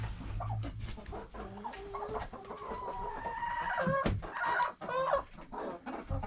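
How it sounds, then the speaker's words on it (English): Roosting chickens in a coop cluck and call at night, with overlapping, fairly loud and close calls and one rising crow-like cry. "Okay, here's my chickens."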